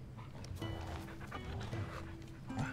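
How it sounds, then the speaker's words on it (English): Torgel, a wolf pup companion in Final Fantasy XIV, gives a few short barks and yips with a soft whimper, close and moderately loud over a low game soundscape. "This is Torgel, a wolf pup raised in the duchy"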